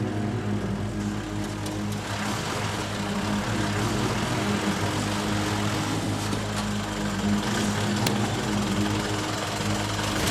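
A helicopter flying overhead, a constant loud rotor chop and engine drone throughout, thick and close, with no talking over it.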